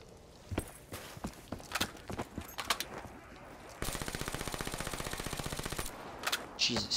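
Rapid automatic gunfire from Black Ops 3 Zombies, first scattered single shots, then a sustained fast burst of even, loud rounds lasting about two seconds before a few more isolated shots.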